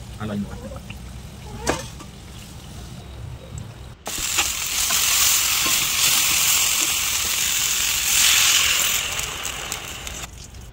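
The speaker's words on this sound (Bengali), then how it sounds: "মাখানোর পরে তেলটা গরম করে তারপর সব সবজিগুলো একে একে সব ভেজে নিয়েছিলাম" Turmeric-coated vegetables drop into hot oil, bursting into a loud, bright, continuous sizzle after a few seconds of quieter kitchen clatter, the hiss holding steady up close before cutting off abruptly.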